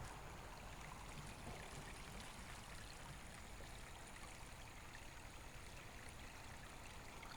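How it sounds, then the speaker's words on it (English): A small creek in a county park runs steadily, a continuous soft rushing and trickling of water heard from nearby at low level, with no voices over it. "Cool little creek running through here."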